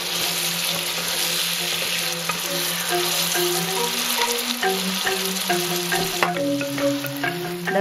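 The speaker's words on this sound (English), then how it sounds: "And you cannot fry the chili too long." Chili sizzling and frying in a hot pan for Balinese sambal terasi, a steady crackling hiss with occasional stirring scrapes, close and continuous with no talking.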